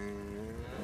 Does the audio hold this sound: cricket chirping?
no